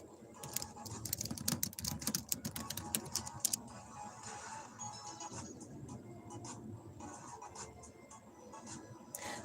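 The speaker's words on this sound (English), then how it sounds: "I'm typing in the question on AI overview." Computer keyboard typing heard close up, a burst of quick irregular key clicks at the start that thins out into sparse taps over a steady low room hum.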